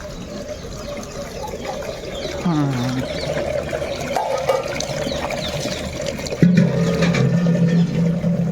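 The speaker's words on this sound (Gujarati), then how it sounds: "આપણે પાણીનું જગ ભરાઈ ગયું છે" Water runs into a jug, a steady pouring and filling sound with a gurgling pitch change near the end, set against low background noise.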